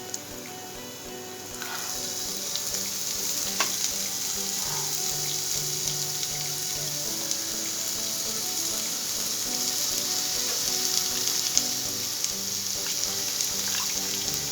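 Soaked poha (flattened rice) tossed into a hot pan of sautéed ingredients and stirred, giving a steady close sizzle and fry with faint scraping clinks, continuous throughout with no talk.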